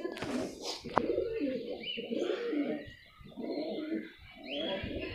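A pen of domestic pigeons, including a Sheikh hen, coos in repeated low, throaty rolls close by, with a few brief higher chirps in between.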